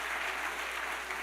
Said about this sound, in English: Just give a round of applause to both of you there